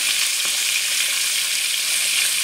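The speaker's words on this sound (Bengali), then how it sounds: "দেখো এখানে আমি দুটো বড় বড় মাছের মাথা দিয়ে দিয়েছি তেলের মধ্যে ভাজার জন্য" Two large fish heads sizzle in hot oil, a steady, dense crackling hiss close up with a few soft pops, no voices.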